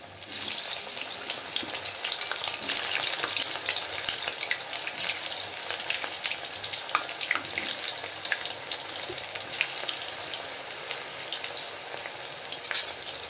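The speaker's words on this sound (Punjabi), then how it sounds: "ਥੋੜਾ ਜਿਹਾ ਸੁਕਾ ਕੇ ਤੇ ਫਿਰ ਉਸ ਨੂੰ ਆਪਾਂ ਤਲਾਂਗੇ ਆਇਲ ਆਪਣਾ ਗਰਮ ਹੋ ਗਿਆ ਤੇ ਇੱਕ ਇੱਕ ਕਰਕੇ ਆਪਾਂ ਪਹਿਲਾਂ ਪਾਉਣੇ ਆ" Pieces of elephant foot yam frying in hot mustard oil give a steady, dense sizzle and crackle that holds evenly for several seconds, close up and with no voices.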